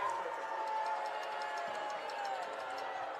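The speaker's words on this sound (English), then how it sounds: "they hear it from the home crowd" A home crowd at a high school football game jeers the visiting team: a steady, distant wash of crowd noise with scattered shouts, fairly faint throughout.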